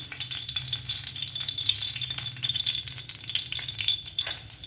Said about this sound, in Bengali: আস্তে আস্তে আলুগুলো ভেজে নেবো বন্ধুরা